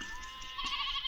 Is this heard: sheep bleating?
yes